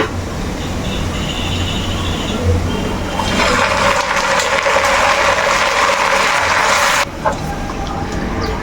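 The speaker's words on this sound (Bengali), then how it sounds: "এখন আমি ম্যারিনেট করা মাংসটা দিয়ে দেবো।" Marinated meat drops into hot, foaming mustard oil in a pan. A loud, close hiss of sizzling swells over a steady background for several seconds, then abruptly subsides to a lower simmer.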